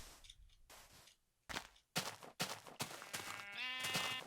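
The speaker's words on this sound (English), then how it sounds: "More sheep." Minecraft sheep bleating in a video game, several short wavering bleats in succession, clear and moderately close, growing louder toward the end with a long quavering call.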